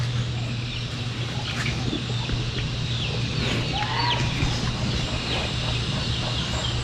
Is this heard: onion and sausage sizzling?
no